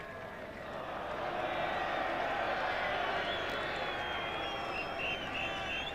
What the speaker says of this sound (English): this packed oval crowd have very nearly had enough now. They're demonstrating